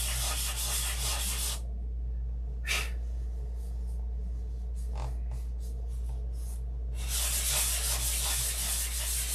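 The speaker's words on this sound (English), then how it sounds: "I'm going to sand this and get this ready." A workpiece hand-sanded, long rough rasping strokes that start and stop, with a quieter stretch broken by a couple of brief scuffs before the steady abrasive scrubbing resumes, close over a low hum.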